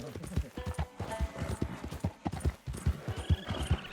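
Horse hooves clip-clopping in a steady, close rhythm within Red Dead Redemption 2, a brisk run of regular beats with brief gaps, faint snorts and a soft voice underneath.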